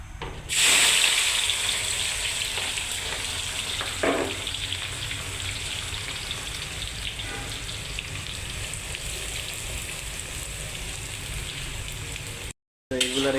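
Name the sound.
chopped onions frying in a pan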